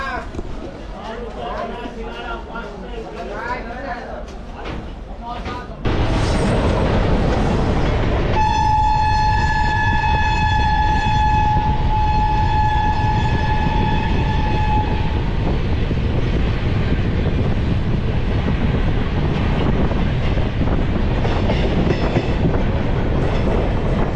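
Kolkata–Puri Puja Special passenger train (03101) rolling on rails: a loud, steady rumble that jumps up after a few seconds, then a long horn blast held for several seconds, with faint background voices.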